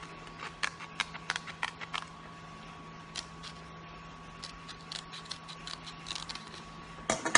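Scissors cutting the border off a wallet-size photo, a scattered series of quiet, close snips and clicks at irregular intervals over a faint steady hum, with a sharper snip at the end.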